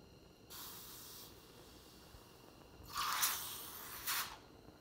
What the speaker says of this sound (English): As soon as it gets burned up like that, you want to scorch it in the cold water.